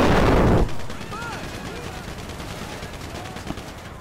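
A loud burst of gunfire rings out in Grand Theft Auto Online, then gives way to quieter game noise with faint chirping tones and a later smaller pop. Voices are present underneath.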